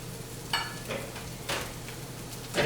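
Roasted corn is sautéed in a pan with crab cake garnishes, giving a soft steady sizzle with a few light stirring scrapes, close and quiet, with no talk.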